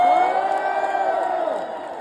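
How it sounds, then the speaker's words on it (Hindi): A crowd cheers loudly for Sidhu Moose Wala, a sustained blend of whoops and shouting voices that carries on steadily and eases off slightly toward the end. "तो एक बारी सिद्धू मूसे वाले के लिए जोरदार तालियां"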